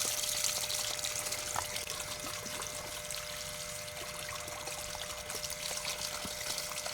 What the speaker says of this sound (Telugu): కావాల్సిన 2 గ్లాసుల బియ్యాన్ని తీసుకొని ఈ విధంగా 2 టైమ్స్ కడుక్కోవాలి.